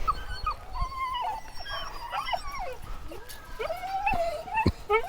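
Inuit sled dogs whimper, yip and whine close by in a series of rising, wavering cries with a few short barks, while a person talks softly in the background.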